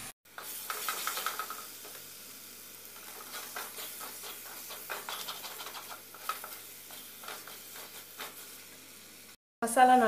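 Masala for a fish curry sautéing in a pan over low heat, a faint steady sizzle with soft scraping stirs as it is worked around, a louder clatter near the end.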